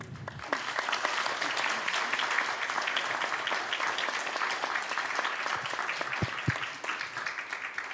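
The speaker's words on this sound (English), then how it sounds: "Ladies and gentlemen, please greet him with a big round of applause." An audience at a world knowledge forum session breaks into sustained applause welcoming the moderator, a dense, steady roar of many hands clapping that carries on for several seconds before easing slightly.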